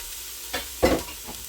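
Gentle sautéing in a Ninja multi-cooker pot for tomato soup, a soft low sizzle broken by a few quick stirring scrapes, one louder utensil stroke near the middle, close by and without speech.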